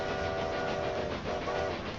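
Train running in the railway management game Railway Empire 2, a steady continuous rumble with a sustained tonal hum, heard alone without talk.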